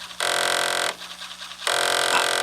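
Apple IIe floppy disk drive spinning with no disk inserted, a loud steady whirring drone that stops briefly and then starts again over a constant hum, close up with no talking.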